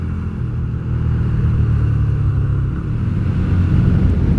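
Steady loud engine rumble and road noise from a motorcycle riding over a potholed road, close and continuous, with the drone swelling slightly as it moves along.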